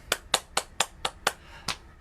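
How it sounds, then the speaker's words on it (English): Seven sharp, evenly spaced hand claps from a children's storytime group, fairly close and clear, with no talking over them. "Please clap your hands."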